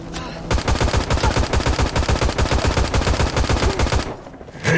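Rapid automatic gunfire from the mobile shooter game Guns of Boom, a loud, dense burst of evenly spaced shots lasting about three and a half seconds, then a brief lull before another shot.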